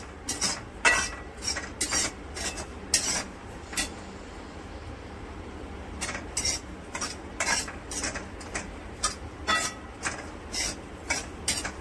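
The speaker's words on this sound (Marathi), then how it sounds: "आता ही राई डाळ ही आपण थोडीशी गरम करून घेऊ" Spoon stirring mustard dal dry-roasting in a pan for green chilli pickle, with repeated scraping clinks in bursts, a pause in the middle, then more steady stirring over a low background hum.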